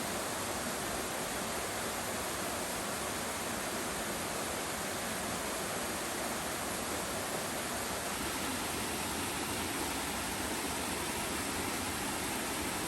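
A creekside waterfall in the Great Smoky Mountains along Hazel Creek pours with a constant, dense, even rush of water that stays steady and close throughout, with no voices.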